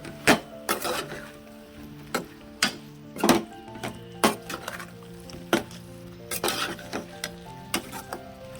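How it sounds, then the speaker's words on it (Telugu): A spatula stirs mushroom curry with tomato, ginger-garlic paste, salt and chili in a pan, producing a low sizzle broken by repeated metallic scrapes and clinks at an uneven rhythm. "ఇప్పుడు కలుపుకుందాం, ఎందుకంటే టమాటా ముందే వేసాం కాబట్టి ఇప్పుడు కలబెట్టుకోవచ్చు"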